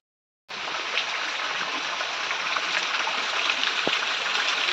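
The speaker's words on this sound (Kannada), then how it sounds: "ನೀರು ಚೆನ್ನಾಗಿ ಹೋಗ್ತಾ ಇದೆ ಸಖತ್ ಮಳೆ ಬರ್ತಾ ಇದೆ" Rainwater rushes steadily along a channel during heavy rain, a continuous close gushing flow that starts abruptly and holds at an even level.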